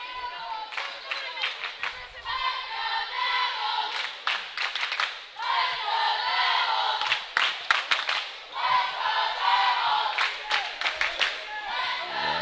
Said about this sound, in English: Ringwood crowd yelling fundamentals